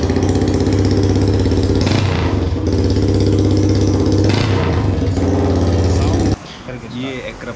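A Yamaha MT15 motorcycle with a full-system SC Project exhaust runs loud and close, its deep, throbbing engine note swelling in a few revs before dropping sharply near the end.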